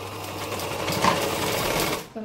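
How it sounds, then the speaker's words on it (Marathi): A sewing machine runs steadily, stitching layers of blouse fabric in a rapid mechanical whir before stopping near the end. "परत शिलाई देऊन घ्यायची"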